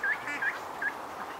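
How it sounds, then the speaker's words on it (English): Ducks returning to a backyard after a storm, giving a few short, moderately loud calls spaced across a second and a half over a steady outdoor hiss. "more and more ducks are dribbling back to the yard"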